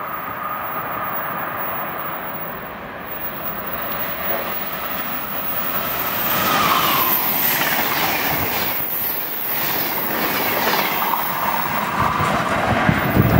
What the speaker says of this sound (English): We got another Amtrak train coming next.